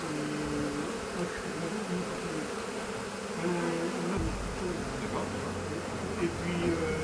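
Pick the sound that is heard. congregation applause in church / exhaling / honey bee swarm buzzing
honey bee swarm buzzing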